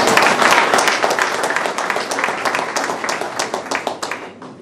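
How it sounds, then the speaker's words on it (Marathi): Audience at a Rotary Club of Solapur MIDC installation ceremony breaking into loud, dense applause that gradually thins into scattered, sharper claps near the end. "थोड्या टाळ्यांचा जोर कमी पडायला लागला."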